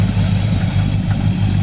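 A 1964 Pontiac GTO with a built XM code engine idles steadily up close, a deep, loud, even rumble with a slight lope and no voices over it.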